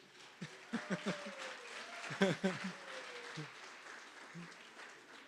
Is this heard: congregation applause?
yes